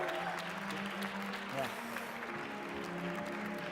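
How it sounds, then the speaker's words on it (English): Applause from the crowd at a Kings Cup II esports final, a steady, dense wash of clapping with people talking over it. "one more time, a big round of applause"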